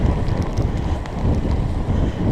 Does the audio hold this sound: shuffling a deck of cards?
no